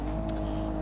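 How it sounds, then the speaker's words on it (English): A Lotus Emira engine in the Test Drive Unlimited Solar Crown video game holds a steady, loud, low drone with a brief higher burst partway through. "The noise of this thing alone makes me want to buy the Lotus Emira."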